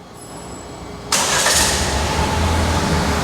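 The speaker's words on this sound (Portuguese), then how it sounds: "E eu quero então dar partida no meu motor." A car engine is started remotely through a tracker app on a hot day: a quiet lull, then a sudden loud crank and catch at about one second, settling into a steady near idle with no talking.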